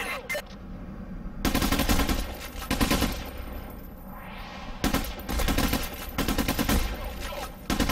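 Rapid automatic gunfire in the Payday The Heist video game, bursts of dense rattling shots in two loud stretches separated by a quieter gap, with a voice speaking faintly.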